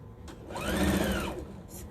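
A sewing machine stitching fabric with a 1/4 inch foot, a brief close whirring run that rises and falls over about a second, with faint background noise around it.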